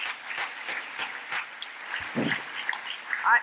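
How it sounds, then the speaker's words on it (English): A keynote audience at an international health summit gives a round of applause, heard as faint, scattered hand claps in a distant, roomy space. "Let's give them a round of applause"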